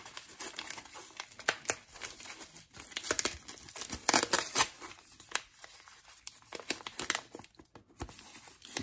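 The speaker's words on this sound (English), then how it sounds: "Some nice foam padding. Snip that right up there." Foam padding packaging from a mailed trading card shipment being cut with scissors and crinkled, producing close, irregular bursts of crackling and rustling with brief pauses.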